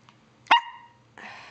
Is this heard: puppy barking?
yes